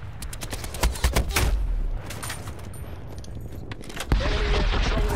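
Gunfire in the video game Call of Duty Black Ops Cold War: several loud, sharp bursts in the first half, fading to a steady background, then a heavy blast near the end.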